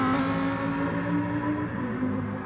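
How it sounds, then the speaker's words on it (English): Lamborghini Huracán V10 engine in a PS4 racing game, a steady high-pitched drone held at constant revs with a faint wavering whine, loud and close with no talk. "Lamborghini, son. I'm a V10."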